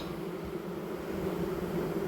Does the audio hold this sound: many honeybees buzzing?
yes